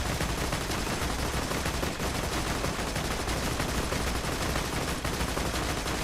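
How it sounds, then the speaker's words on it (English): Dense, continuous gunfire from the video game Borderlands 2, a steady loud barrage of rapid shots with no pauses, filling the whole stretch with overlapping blasts. "The shots are pretty dangerous."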